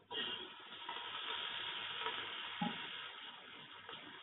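Coriander and mint leaves fry in a pan for mutton biryani, giving a steady close sizzle and hiss with a brief clink of stirring partway through.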